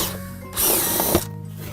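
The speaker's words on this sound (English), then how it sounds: "I'm going to drill it out" A power drill bores a hole in wood to seat a T-nut flange for a tripod mount: a short, loud burst of whirring lasting under a second, with quieter workshop hum before and after.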